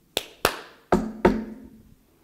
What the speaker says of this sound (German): Dreimal geklatscht und dreimal geklopft?